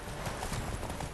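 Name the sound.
horse galloping hooves during a horse race in The Witcher 3 video game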